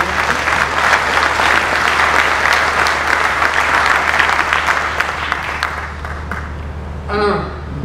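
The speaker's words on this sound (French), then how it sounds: "vous pouvez l'applaudir" An audience applauds at an inauguration ceremony for a multi-energy station in La Roche-sur-Yon, a steady, dense crowd ovation that fades out toward the end, with a brief voice as it dies away.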